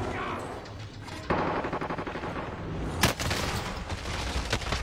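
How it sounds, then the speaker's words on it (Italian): Rapid bursts of automatic gunfire crackle through a shooter video game, a sharp loud shot near the three-second mark standing out among continuous volleys, with faint voice in the background. "Zio, ma questo mi spara con che arma, zio?"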